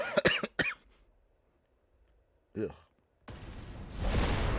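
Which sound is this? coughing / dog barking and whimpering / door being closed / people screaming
coughing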